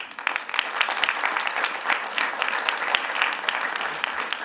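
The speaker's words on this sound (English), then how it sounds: "So if you clap for that, you'll clap for this." Audience applause at a county government State of the County address, a dense, steady clapping crowd sustained loudly and evenly throughout.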